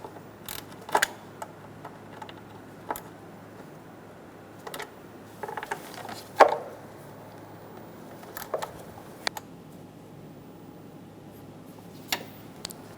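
Ratchet clicks snug down the cover bolts around the crankshaft position sensor on a 2003-2007 Honda Accord, coming as sparse, separate mechanical clicks and clunks close by over a quiet background.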